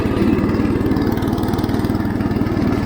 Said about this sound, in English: Let the deck down, ease the PTO on,